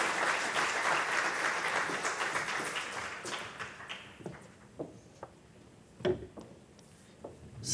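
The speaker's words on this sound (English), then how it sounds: "please give a big round of applause to the panel that we'll be having a nice conversation with now" Audience applause for a discussion panel at a Melbourne talk event on migration: a full, loud burst of clapping that fades after a few seconds into scattered single claps and light taps.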